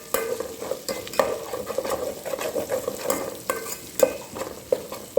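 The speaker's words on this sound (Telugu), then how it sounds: "ఇప్పుడు అల్లం వెల్లుల్లి పేస్ట్ వేసాను" Two spoons of ginger garlic paste sizzle in a pan for a fish pulusu while a utensil stirs and scrapes it, giving close, steady frying with irregular clinks and scrapes and no talking.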